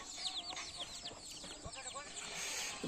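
Chickens cluck and roosters call in a busy chorus on a foggy village morning beside a forest, some near and some farther off, with birds chirping throughout.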